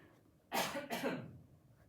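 Two quick, harsh coughs close to the microphone, one right after the other, then quiet.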